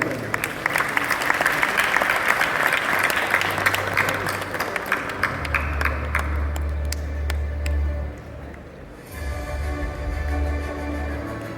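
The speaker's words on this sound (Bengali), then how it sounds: "আমরা আরেকটু জোরে হাততালি দিতে পারি।" A large award-ceremony audience claps in dense, sustained applause that swells, then thins briefly before resuming, with faint voices beneath.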